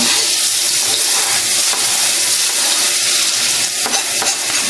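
Ginger sautés in a little cooking oil, giving a loud, steady hiss and crackle close by with a couple of brief utensil clicks near the end and no talk.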